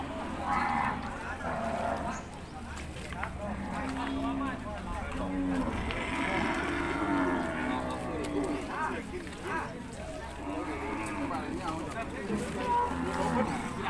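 Buffalo and cattle low repeatedly at a busy Thai livestock market, deep moos rising and falling throughout under continuous loud talk from people and an announcer nearby.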